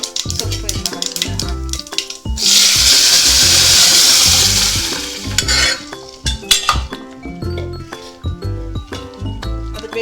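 Cumin, mustard seeds and asafoetida tempering in a pan for masoppu sambar, with a burst of loud frying sizzle in the middle surrounded by repeated clanks of a metal spoon stirring against the pan, close and busy, without talk.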